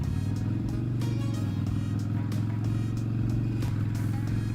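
A Harley motorcycle crosses a bridge, its engine a steady loud low rumble throughout with a constant throaty drone and faint ticks of wind and road above it.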